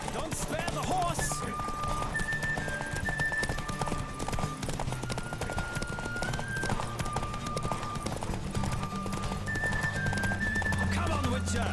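Continuous rapid hoofbeats of a horse at full gallop in a race in The Witcher 3: Wild Hunt near Novigrad, with sustained music tones and occasional whinnies and voices.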